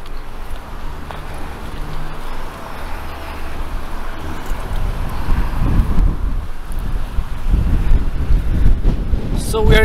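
Strong gusting wind buffets a phone microphone on a cold downtown Toronto street corner, a loud rumbling roar that swells and grows heavier toward the end, with no clear voices over it.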